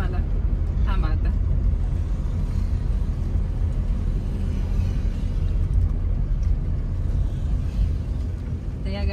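A car being driven slowly out of a narrow lane: a close, continuous low engine rumble that holds steady throughout, with faint muffled voices in the background.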